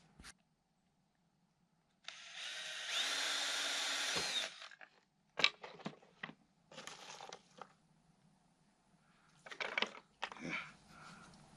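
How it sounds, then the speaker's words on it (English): A power drill bores holes in small branches in a forest setting, a sustained high whine lasting a couple of seconds followed by several shorter bursts and scraping bits, close and fairly quiet, with no talking. "I'm drilling a lot of holes in some small branches"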